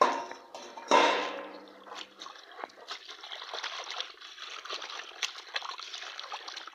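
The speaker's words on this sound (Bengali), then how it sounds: "ঠিক একইভাবে সরিষার শাকগুলো আমি ধুয়ে নেব" Mustard greens being washed in water, sloshing and trickling with a splash at the start, then continuous soft dribbling and stirring of leaves in water.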